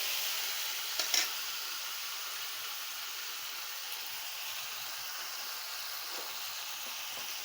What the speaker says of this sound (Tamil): இப்போ வெங்காயம் வதங்கிடுச்சு. தக்காளி போட்டுக்கலாம்.